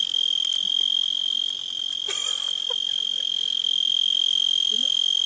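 A continuous high-pitched cricket chirp drones steadily, close and unbroken, with a few faint rustles in the background.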